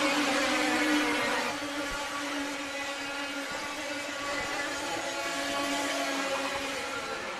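Nineteen 100 Super racing karts, with highly stressed 1990s-to-early-2000s formula engines revving around 20,000 rpm, scream past a trackside spot at Whilton Mill in a high-pitched whining blare that is loudest at the start and then holds at a strong, steady roar.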